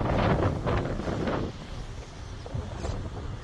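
Steady wind rushes across the microphone outdoors, a continuous low roar with gusty swells and no speech.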